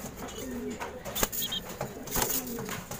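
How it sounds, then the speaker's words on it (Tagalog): Soft cooing and short chirping calls from a young pigeon or dove, close by and somewhat faint, with brief rustles and light handling noises around them. "Tara, bagong young bird."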